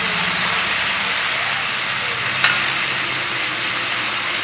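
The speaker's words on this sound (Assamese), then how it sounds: "এইখিনি লৰাই পেলাই ভাজি ল'ব" Small fish with salt being stir-fried in a pan give a steady, dense sizzle and crackle throughout, with one brief clink of a utensil partway through.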